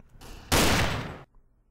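A gunshot burst in the video game The Quest For Ikambokem, a loud broadband blast lasting under a second after a brief softer lead-in, then cutting off to quiet.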